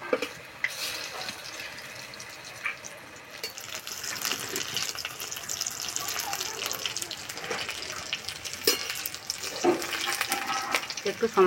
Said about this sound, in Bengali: একটু সময় ধরে আস্তে আস্তে ভেজে নেব,